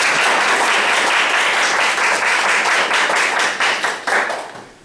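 An audience at a university lecture claps to welcome a visiting professor, a dense, loud burst of applause that holds steady, then thins out and fades within about five seconds.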